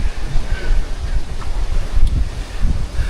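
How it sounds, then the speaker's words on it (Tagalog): Waves rumble and crash continuously against rocks on a shore, with gusty wind buffeting the microphone and a low, churning roar throughout. "Dahil ang lakas ng dagundong nung alon, yung current niya."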